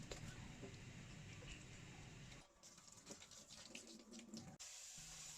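Water runs from a kitchen faucet into a sink while bell peppers are washed, a steady splashing stream that briefly changes in tone as the produce interrupts the flow, then resumes.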